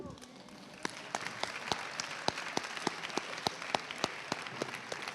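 An audience at a conference plenary applauds its host. A soft, distant wash of clapping sits under sharp, regular loud claps from one nearby pair of hands, while voices murmur faintly throughout.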